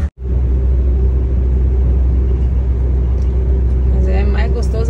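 A loaded truck carrying vegetables rolls along a highway with a deep, steady cab rumble and engine drone, loud and constant, while someone speaks over it.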